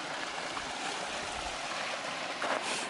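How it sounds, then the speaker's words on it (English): Water rushes in a steady, full hiss like a stream flowing out of sight beneath snow, continuous and fairly close, with no voices. "Listen to the gushing stream underneath the snow."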